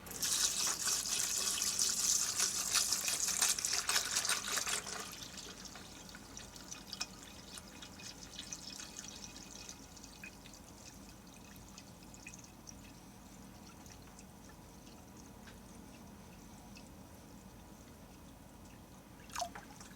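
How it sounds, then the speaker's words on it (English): Distilled water pours into a Thumlers Model B rock tumbler barrel holding about 100 brass cases, a loud splashing stream for about five seconds that gives way to faint drips and quiet handling, with one sharp clink near the end. "Going to use distilled water."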